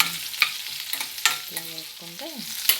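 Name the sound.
tempering urad dal, mustard seeds, cumin, green chillies frying in oil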